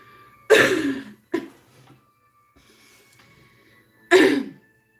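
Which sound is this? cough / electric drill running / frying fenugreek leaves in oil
cough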